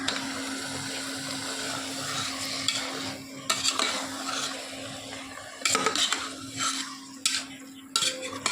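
Marinated mutton curry stirred in a pot for a Bengali-style dish, a steady low sizzle underneath with occasional sharp scrapes and clinks of a spoon against the metal pot, close by.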